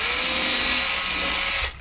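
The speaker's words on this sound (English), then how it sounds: "We'll get the drill and we'll make a hole for the LED." Close up, a power drill whirs steadily as it cuts a hole for an LED in a Swift Kon-tiki motorhome, giving one continuous high whine under two seconds long before stopping abruptly.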